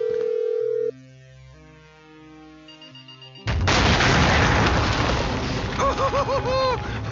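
A phone call is dialed in GTA 5, with a sequence of keypad and ringing tones, followed by a sudden loud rumbling burst of game action and a run of warbling electronic beeps.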